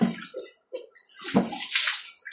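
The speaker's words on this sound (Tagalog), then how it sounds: "nilalagyan ho rin namin ng tubig" Water splashes and pours in uneven bursts into a piglet pen, with a short gap partway through before a steadier rush of filling sound.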